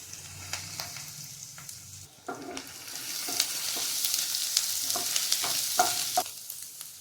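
Finely chopped ginger and garlic sizzle in hot oil for a restaurant-style cabbage Manchurian, a steady bright frying hiss punctuated by sharp stirring clicks and scrapes, with no talking.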